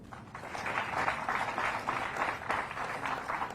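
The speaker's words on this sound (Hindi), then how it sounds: "तालियां" Audience applause at a civil services examination event, a steady dense wash of clapping from a crowd that runs the whole time without break.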